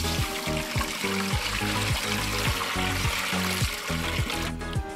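Water is poured in a steady trickling, gurgling stream while cooking soft dahi vada, continuous and close, with background music playing underneath.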